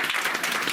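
Brief burst of audience clapping at an outdoor government welfare program event in Himachal Pradesh, moderately loud with many hands overlapping.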